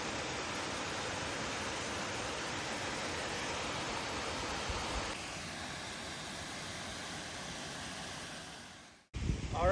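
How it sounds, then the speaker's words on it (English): Steady broadband roar of water pouring over waterfalls at a man-made dam on a creek, constant and fairly loud, continuous rush until it cuts off near the end. "It's probably a little loud because of the waterfalls inside."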